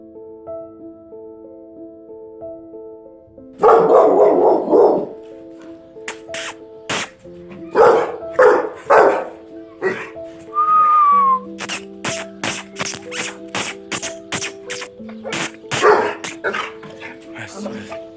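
A dog recovering from poisoning gives a few short barks and yips amid steady background tones, with people talking and whistling nearby.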